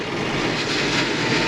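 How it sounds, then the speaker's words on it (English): A loud, close Twin City Minneapolis-Moline tractor engine with a faulty turbo roars with a harsh, rushing whine over a low rumble, steady for the whole brief moment. "the turbo's making a terrible noise"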